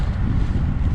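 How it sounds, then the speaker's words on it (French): Wind buffets a microphone outdoors on a steep hillside climb, a loud, low rumbling gust lasting about a second. "Il y a une espèce de vent, les amis"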